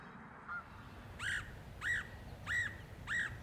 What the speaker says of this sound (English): The answer is a Canadian goose.